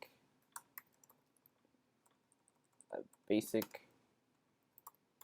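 Keys on a computer keyboard click in sparse taps and short bursts, close but quiet, with a brief spoken phrase breaking in partway through.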